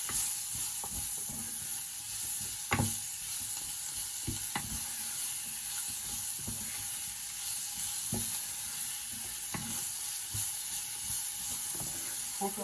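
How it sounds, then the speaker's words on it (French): Spices frying in two tablespoons of oil in a pan, stirred with a wooden spoon for an Antillean tuna quiche: steady close hissing sizzle throughout, broken by occasional soft spoon knocks and scrapes, with no talking. "nous allons faire revenir nos épices dans nos 2 cuillères à soupe d'huile"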